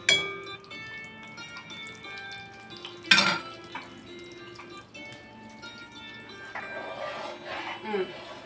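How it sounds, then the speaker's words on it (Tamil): Onions frying in hot oil for an Andhra-style mutton curry, a soft continuous sizzle with clinks of a utensil against the pan and a sharp scrape partway through, with a voice speaking over it. "ஆயில் சூடான உடனே ஆனியன் போட்டுடலாம்"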